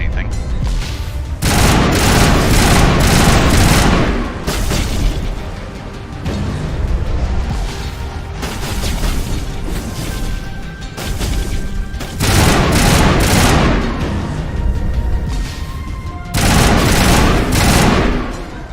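Grenade blast and bursts of gunfire in the video game Mass Effect, loud booming shots coming in repeated clusters with short lulls between them.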